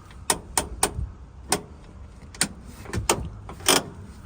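New handbrake shoes on a Peugeot Expert make a series of short, sharp scraping clicks against the brake drum in an irregular rhythm, close and moderately loud, with no talking.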